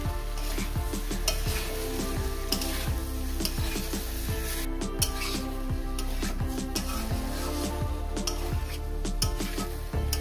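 Potatoes and jackfruit sauté in a spice masala for a jackfruit curry, with a continuous sizzle and repeated scraping and clattering of a spatula against the pan, close by and with no talking.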